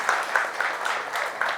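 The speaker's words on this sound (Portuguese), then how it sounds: "Salve de palmas para o esposo." Audience applause at an agribusiness lecture, a soft, moderately distant patter of clapping with individual claps pulsing through at an uneven rhythm.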